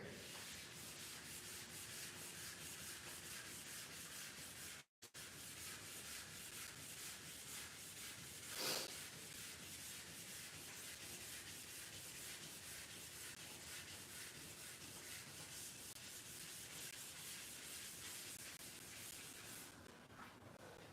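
800 grit sandpaper rubs steadily and faintly over a surface in a continuous hiss, with one brief break and a small scrape partway through.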